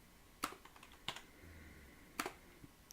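Code being typed on a computer keyboard: a few distinct, crisp key clicks spaced irregularly, close and quiet against a faint hum, with no talking.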